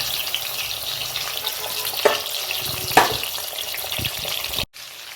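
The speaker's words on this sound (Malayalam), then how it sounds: "അതിലേക്ക് നമുക്ക് കാടക്കോഴി ഓരോന്നായിട്ട് ഇട്ട് കൊടുക്കാം." Quail dropped one by one into hot oil sizzle and fry steadily in a home kitchen during a quail biryani preparation, a continuous crackling hiss with a couple of sharper spits, close by, cutting off abruptly near the end.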